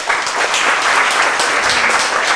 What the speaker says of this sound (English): That's a lazy clap.